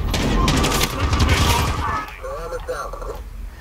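Rapid bursts of CR-56 AMAX assault rifle fire in Call of Duty: Modern Warfare, loud and dense for about two seconds, then tapering into quieter background noise with a voice talking.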